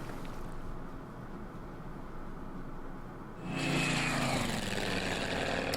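Propeller fighter aircraft in the WWII strategy game Order of Battle, Burma Road campaign: a low steady engine drone that swells suddenly louder and brighter partway through and then holds, with no one talking.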